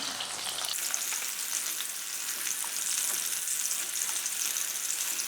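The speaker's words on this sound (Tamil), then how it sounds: "இப்போ நம்ம மசாலா போட்டு தடவி வச்ச வாழைக்காவெல்லாம் இதில் ஃப்ரை பண்ணி எடுத்துக்கணும்." Masala-coated plantain pieces fry in a pan with a steady, dense sizzle that holds even throughout, close and fairly loud, with faint stirring ticks and no voices.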